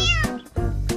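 A kitten meows three times in quick succession, each a short, close, clear call with a bright harmonic tone.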